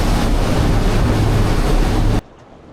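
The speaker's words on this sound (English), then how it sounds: "Sketchy running down the bottom end here in 4 metres swell." Rough ocean water in a 4 metre swell around a small unsinkable boat off rocky King Island, a loud, steady roar of surf and wind that cuts off abruptly near the end, leaving only faint hiss.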